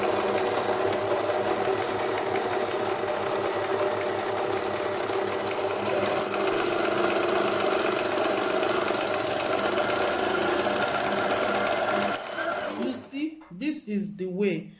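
A sewing machine runs steadily and close for a long stretch while stitching a kimono jacket, a continuous fast mechanical whir that stops abruptly near the end, followed by brief handling noises.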